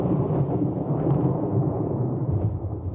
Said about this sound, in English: Darkness descended with the thunderclap.